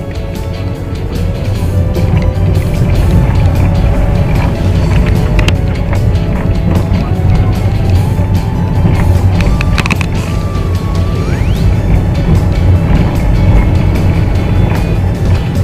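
A car accelerating on a road during a driving lesson, with a steady loud engine and road rumble that continues throughout, close and with no talking.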